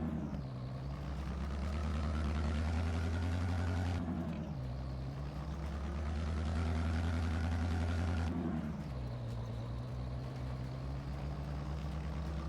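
An International 510 tractor idles steadily in Farming Simulator with a loud, droning engine hum. The pitch dips and swells twice as the load changes, and no voices are heard.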